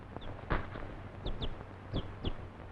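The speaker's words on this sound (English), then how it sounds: "A chicken?" A chicken clucks in a 1943 western film scene, several short, separate clucks and squawks at moderate distance with faint background noise underneath.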